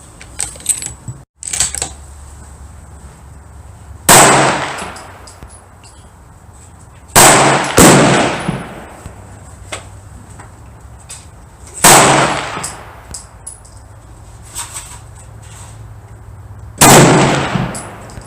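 A Weatherby Vanguard S2 rifle in 7mm Rem Mag with a Leupold VX-1 scope fires at a steel target, giving four loud, sharp shots spaced a few seconds apart, each followed by a decaying ring over steady outdoor background.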